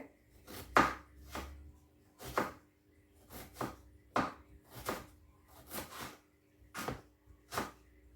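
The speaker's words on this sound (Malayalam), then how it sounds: "പെട്ടെന്ന് കട്ട് ചെയ്തെടുക്കട്ടെ" Sharp knife chops on a cutting board as lemons are cut up for a lemon pickle, about a dozen crisp strikes in an uneven rhythm, close and fairly quiet with no talk.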